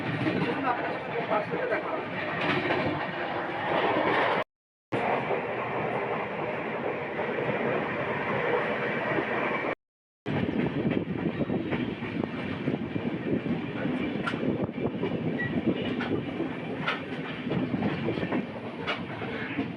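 Inside the moving NJP to Howrah Shatabdi Express, a steady rolling rumble and rail clatter fills the carriage. The noise runs continuously apart from two brief gaps, with voices faintly mixed in.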